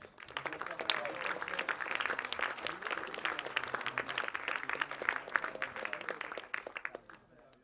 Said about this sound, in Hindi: बहुत बढ़िया लिखा आपने, बहुत बढ़िया टाइटल, जोरदार तालियां.